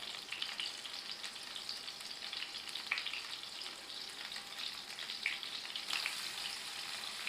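Stuffed snake gourd sizzles steadily in a pan of hot oil, a soft continuous crackle with a few brief spits and no talking.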